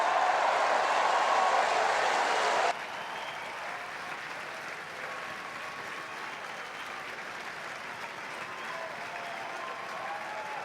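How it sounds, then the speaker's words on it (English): Racecourse crowd after the King George steeplechase applauds and cheers the winning horse, a dense roar of clapping that cuts off sharply after a few seconds, leaving a quieter murmur of crowd noise and scattered claps. "Go on, one more cheer, Courthoe Star!"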